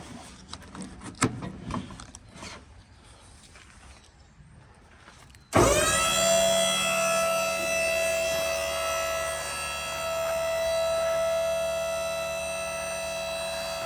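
A Diamond C LPT 207 dump trailer's hydraulic cylinder raises the bed, a steady loud electric pump whine with a strong constant tone that kicks in abruptly after quieter handling noises and runs on unbroken.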